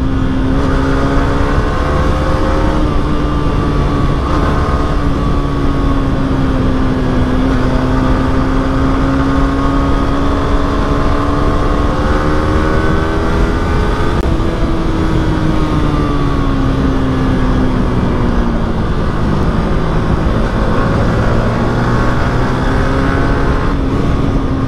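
A motorbike ridden on a road trip to Barasat near Kolkata, its engine droning steadily and close for the whole stretch, pitch rising and dipping gently with the throttle, alone without talk.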